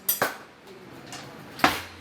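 A metal spoon clinks against a pot and utensils while rice cooks on high heat, giving three sharp, close metallic knocks with quiet pauses between them.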